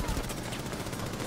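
Gunfire in Rainbow Six Siege comes as a rapid, continuous stream of loud shots packed close together, with dense crackling bursts over a low rumble.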